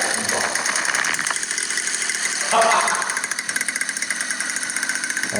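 A repaired model airplane engine runs at a steady, loud, buzzing drone with a brief surge partway through, close to the listener.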